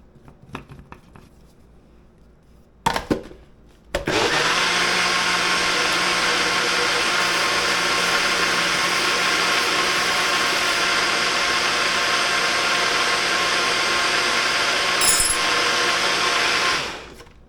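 A countertop blender whirs loudly and steadily for about thirteen seconds as it mixes a peanut butter and jelly smoothie, starting abruptly after a few soft clicks and handling sounds and cutting off at the end.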